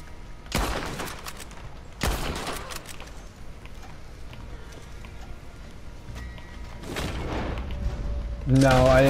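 Double-barrel shotgun blasts in a Western-style multiplayer video game: three loud, sharp booms spaced a couple of seconds apart, each with a short ringing tail, over low background game noise.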